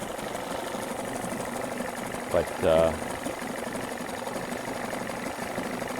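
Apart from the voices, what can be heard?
1989 Evinrude 30 HP outboard motor idling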